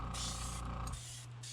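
Aerosol spray paint hissing steadily onto the gill plate of a Strike King KVD crankbait lure, a continuous broadband rush that briefly drops off near the end while faint machine hum runs underneath.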